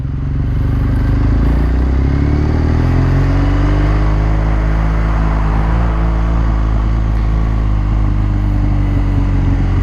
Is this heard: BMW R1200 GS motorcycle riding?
yes